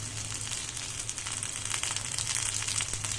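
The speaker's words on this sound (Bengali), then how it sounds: "এখানে আমি পেঁয়াজটা বেশি ভাজবো না, একটু হালকাই ভাজবো। এখন একটু দিয়ে দেবো একটু আদা বাটা" Onion with ginger paste fries lightly in a pan, a close, steady sizzle and crackle with soft spattering that grows a little louder toward the end.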